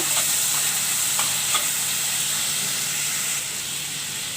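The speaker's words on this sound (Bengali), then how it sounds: "আদা রসুনটা একটু ভেজে নিতে হবে, নাহলে গন্ধ করবে।" Ginger and garlic frying in a pan for chicken korma, a steady close sizzle and hiss with a few faint stirring clicks, no talking.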